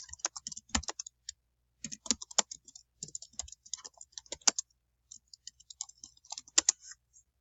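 Clicky keystrokes on a computer keyboard come in quick bursts with short pauses between them, close and fairly quiet, with no one speaking.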